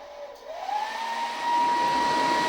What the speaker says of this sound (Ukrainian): Вмикай фен на перше положення.